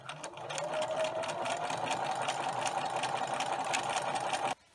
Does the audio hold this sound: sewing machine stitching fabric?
yes